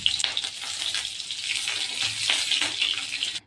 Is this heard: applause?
no